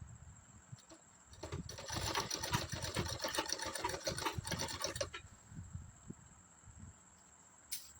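Sewing machine running a long basting stitch down a kurti patch, a steady mechanical whir lasting a few seconds at moderate volume, with quieter handling noises before and after.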